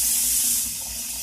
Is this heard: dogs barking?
no